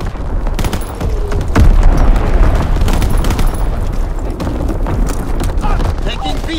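Bombs and artillery shells detonate in a WWII video game battle, giving a continuous, loud rumble of booms and gunfire with heavy low-end impacts and no clear break.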